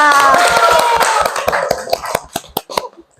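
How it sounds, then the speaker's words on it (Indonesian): Students in a school classroom clap for a classmate, starting as a dense burst of hands that breaks into scattered, separate claps fading out over a few seconds, with a voice briefly heard early on. "Ya, tepuk tangan untuk Aulia."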